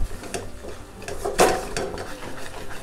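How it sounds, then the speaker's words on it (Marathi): A spoon stirring a ginger and cardamom mixture in a pan, with soft scraping and clinking against the metal and one louder knock, close and quiet. "ते चांगलं ढवळून घेऊया."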